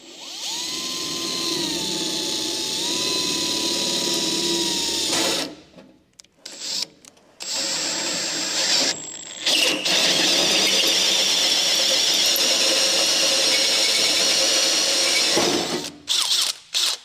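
A pilot drill bores holes in a workshop, long loud whirring runs broken by short pauses and stops, with a rising pitch as it spins up and a steady drone between bursts.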